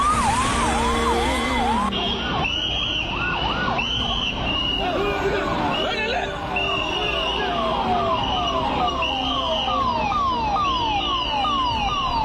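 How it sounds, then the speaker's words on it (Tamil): An ambulance siren wails continuously on a national highway from Trichy, its rising and falling tones loud and close throughout, with the siren pattern switching partway through. "திருச்சியிலிருந்து பறந்த ஆம்புலன்ஸ் 2 மணி நேரம் ஃபுல் அலர்ட் நிலையில்"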